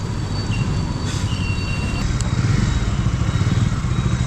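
A motorcycle engine fires up and settles into a steady, loud low rumble that runs unbroken, with a brief higher whine near the start, heard just after a fuel stop on a bike ride.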